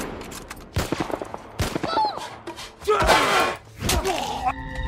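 Gunfire in The Last of Us gameplay, a few sharp shots and bursts mixed with game effects and clattering impacts, loud and close, with a voice heard faintly at moments.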